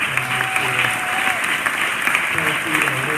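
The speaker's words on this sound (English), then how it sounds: "One more round of applause for the organizers," A startup weekend crowd at the final presentations applauds the organizers with steady, dense clapping throughout, while a voice speaks faintly under the applause.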